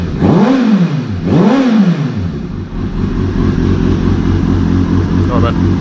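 A 2005 Kawasaki Ninja 636 with a Two Brothers exhaust gives two quick, loud revs up and back down, then settles into a steady, throaty idle.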